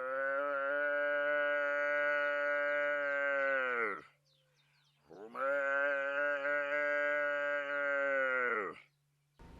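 A man imitates a calf's call with two long, loud, bellowing moos, each held several seconds before tapering off, separated by a short quiet gap, with a faint low hum underneath.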